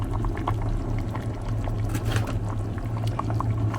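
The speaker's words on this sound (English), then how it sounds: "Put the snail soup in the pot." River snail soup for river snail noodles pours steadily into a cooking pot, a continuous close liquid rush with a low bubbling undertone and no talking.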